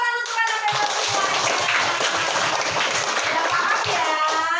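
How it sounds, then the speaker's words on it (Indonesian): Children in a classroom clap their hands together in a dense, steady patter that carries on evenly throughout, with a faint voice mixed in. "Tepuk tangan untuk anak bebas semua."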